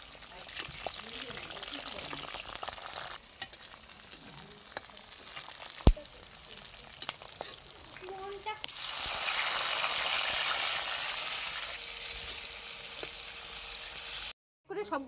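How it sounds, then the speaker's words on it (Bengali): Onions sizzle in a pan for a Bengali chili dish, a moderate frying hiss with scattered stirring clicks and taps, swelling into a louder, denser sizzle partway through before a brief cut near the end. "সবার প্রথমে ভেজে নিব পেঁয়াজ।"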